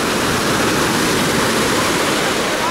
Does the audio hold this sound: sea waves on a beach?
yes